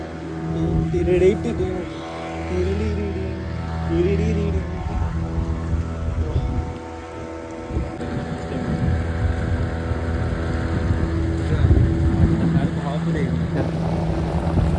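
Fishing boat engine chugging steadily at close range on open water, a low droning hum mixed with wind buffeting, while voices talk over it for much of the time.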